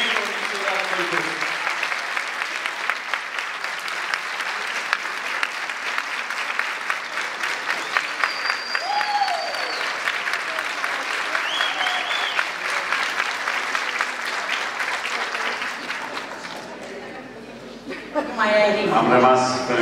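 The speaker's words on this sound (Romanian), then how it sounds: "Aplauze pentru primarul nostru" A crowd applauds a mayor with steady, loud clapping that holds for most of the stretch, with faint cheers on top before it thins out near the end.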